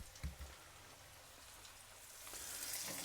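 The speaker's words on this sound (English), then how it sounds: "they're going to be in the oil for just a couple of minutes on either side" Salt and pepper spare ribs frying in a pan of hot oil, a faint, steady hiss and bubbling that swells slightly toward the end, with no voices.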